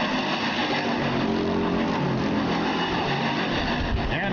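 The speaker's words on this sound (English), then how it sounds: "Heat race number 1 of 2 for the Sportsman class here tonight at the Rapid Speedway." Sportsman class race cars in a heat race at Rapid Speedway roar continuously, with several engines blending into a steady, loud drone of revving and passing cars.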